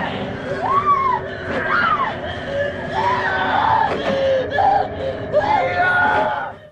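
A woman's high, wavering screams and anguished cries in the horror film A Nightmare on Elm Street repeat over several seconds, close and loud, with a muffled rumble of other sounds underneath.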